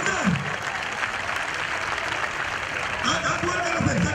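Audience at a Thane district kabaddi semi-final applauding: a steady wash of clapping fills the whole stretch, with a host talking over it on a loudspeaker.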